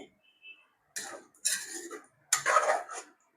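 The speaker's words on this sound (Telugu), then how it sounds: "వేసుకొని మొత్తం బాగా కలుపుకోవాలి కర్రీని" A spoon clatters and scrapes around a pot of chicken curry with garam masala, in three short bursts of stirring separated by pauses, fairly close with no talking.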